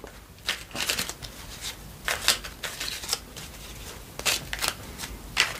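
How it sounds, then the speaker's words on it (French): Oracle cards being shuffled by hand up close, a series of quick riffling and flicking bursts separated by short pauses, crisp and fairly loud in a quiet room with no talk. "on remélange. J'essaie de mélanger le mieux possible"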